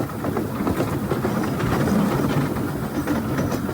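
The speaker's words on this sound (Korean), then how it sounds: "저는 처음에 이 미니 기차를 탔을 때에는 시설이 낡아 덜컹덜컹 거리네 라고만 생각했었어요" An old, worn mini tourist train in the mountains of Wulai, Taiwan, rattles and clatters along its rails in a steady, continuous rumble with dense, irregular clacks throughout, fairly loud and close.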